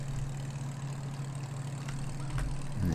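A farm tractor in Farming Simulator 15 runs in second gear with a steady low engine drone at moderate volume, rising slightly in the last second.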